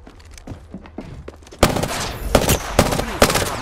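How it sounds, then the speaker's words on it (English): Rapid gunfire crackles in Apex Legends: faint distant shots first, then a loud close burst of repeated cracks in an uneven rhythm. "Opening fire on the enemy."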